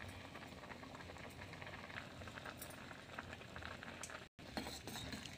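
Rice payasam sweetened with jaggery bubbling steadily as it cooks in a pot, a continuous close simmer with faint clinks of a spoon stirring, briefly cut off near the end before resuming.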